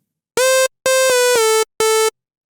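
A Maelstrom synthesizer patch from Reason's factory sound bank plays a short phrase of bright, harmonically rich held tones, with a slight pitch dip between notes and sharp on-off edges, heard alone and close.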